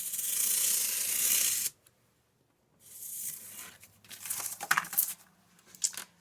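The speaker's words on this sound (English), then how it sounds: "I'm just going to cut it really quickly with a knife." A knife cuts a piece of old box cardboard, heard as a close, loud scraping tear that stops, followed by a pause and then a series of rustling, crinkling strokes.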